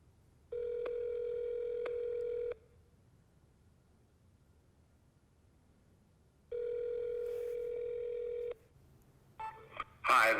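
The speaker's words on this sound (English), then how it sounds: "I'm calling in regards to a documentary series" Two steady electronic telephone tones, each about two seconds long and separated by a pause, then a brief burst of noise at the end as a call is placed.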